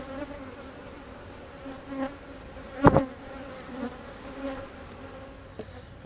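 Honeybees buzz around a split hive, a soft continuous drone with one loud bee zipping close past for a moment, then fading back to a faint steady hum.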